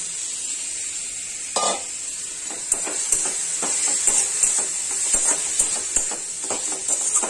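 Spices sizzle steadily in hot oil in a pan, with turmeric powder, bay leaf and cardamom in the tempering, while a utensil scrapes and stirs in repeated clicks and scuffs close by.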